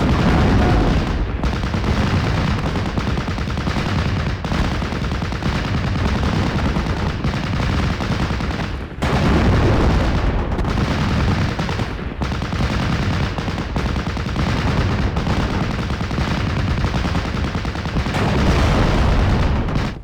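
MG-42 machine gun fire from the Steel Division: Normandy 44 video game rattles continuously over a dense battlefield din, with steady bursts and distant booms layered throughout.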